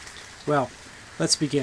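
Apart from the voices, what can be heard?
rain falling outside on a chilly evening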